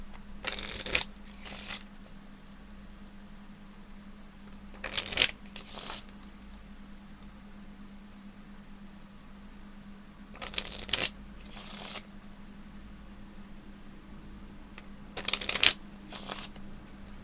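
Playing cards are riffled and bridged repeatedly, giving paired crisp bursts of flapping card noise that recur at regular intervals over a constant low electrical hum, with no talking.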